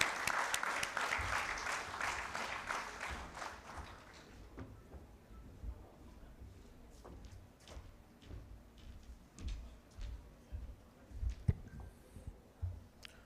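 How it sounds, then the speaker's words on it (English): Conference audience applauding at a trauma conference, a dense burst of clapping for about four seconds that quickly fades into quiet room noise with scattered claps and bumps. "A big round of applause, everyone."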